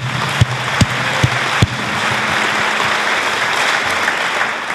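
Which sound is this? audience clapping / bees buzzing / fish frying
audience clapping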